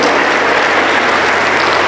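A Pentecostal church congregation applauds in a loud, dense, continuous wash of clapping that fills the room without a break.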